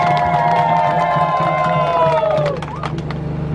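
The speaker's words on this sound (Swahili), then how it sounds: "Naomba wajipigie makofi mengi sana." Crowd of villagers cheering and clapping at a water project foundation-stone ceremony with the Uhuru Torch, loud and close, with a sustained tonal whistle or horn over the din that drops away near the end.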